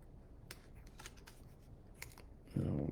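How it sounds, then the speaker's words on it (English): Paper file folder trimmed with scissors: a few short, crisp snips and rustles at close range, then a louder, heavier handling noise near the end. "I want to just trim this off."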